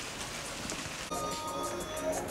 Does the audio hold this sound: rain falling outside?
yes